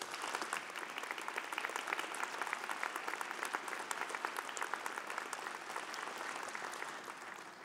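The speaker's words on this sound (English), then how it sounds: "let's give them a big round of applause" Sustained applause from a convocation audience honoring family, friends and university staff, dense steady clapping throughout, fairly distant and even, tapering slightly at the end.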